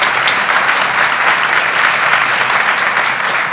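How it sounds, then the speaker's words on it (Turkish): An audience at a women's solidarity event in Safranbolu breaks into loud, close applause, a dense, even clapping that fills the whole three and a half seconds without any voices. "Bu yüzden de bir alkış daha almak istiyorum ben."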